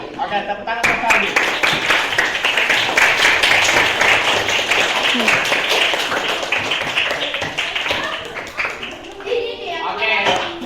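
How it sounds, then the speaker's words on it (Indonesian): Classroom clapping for a pupil named Saldi, a dense run of hand claps that fills the room steadily for about ten seconds, with scattered voices mixed in and the claps thinning toward the end. "tepuk tangan untuk Saldi"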